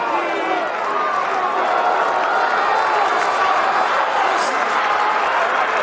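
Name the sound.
rugby home crowd cheering, Argentina vs Wales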